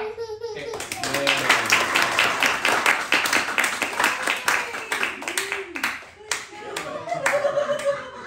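Congregation clapping rhythmically at a church baptism, a dense run of sharp handclaps carried on for several seconds alongside chatter and a voice, tapering briefly before a final flurry.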